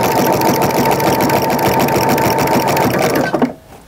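A home sewing machine stitches a jelly roll fabric rug and backstitches to secure the seam, a loud steady mechanical whir with a fast rhythmic chatter that runs for about three seconds and then stops abruptly.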